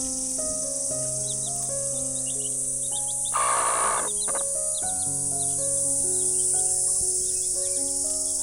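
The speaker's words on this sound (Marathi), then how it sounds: "हा पक्ष्यांचा आवाज येतो बघा" A small bird calls loudly from trees in a village, with bright, repeated chirps and whistled notes over a constant background of insect trilling.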